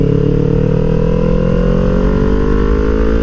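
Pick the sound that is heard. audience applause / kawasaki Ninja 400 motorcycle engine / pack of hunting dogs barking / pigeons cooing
kawasaki Ninja 400 motorcycle engine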